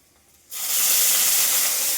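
Rice hits a hot pan with cumin, garlic and chili, setting off a sudden loud, steady hiss and sizzle that starts abruptly after a quiet moment and holds close and strong.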